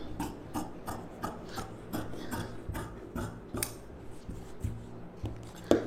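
Scissors cutting fabric to shape for a round front neck, giving a steady run of close, evenly spaced crisp snips with a soft rasp between them, no talk.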